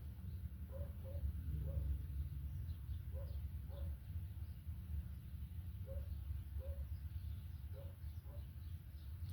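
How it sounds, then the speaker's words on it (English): Faint bird calls repeat in short paired notes at intervals, far off beneath steady low wind noise. "listen to them birds."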